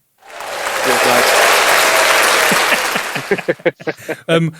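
Round of applause from a live audience at a comedic talk on military communications and British Army banter, swelling quickly into loud, dense clapping, then thinning out as voices and laughter break in at the end.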